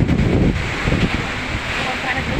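Strong typhoon wind from Typhoon Odette roars and buffets the microphone in heavy gusts, with a crashing surf-like rumble underneath and a voice faintly mixed in.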